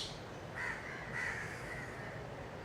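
Crows caw outdoors on a hot day, a few harsh calls in a loose cluster at moderate distance over a steady background hiss.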